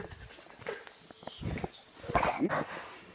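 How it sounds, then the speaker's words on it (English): A dog gives short, close barks and whimpers indoors in an excitable, uneven burst, with a person talking around them. "My dog's attacking me too."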